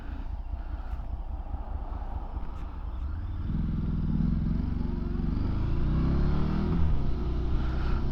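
A Morbidelli T1002V motorcycle accelerating on the road, with a steady engine drone swelling into a stronger, rising growl as the throttle opens, heard close under light wind noise.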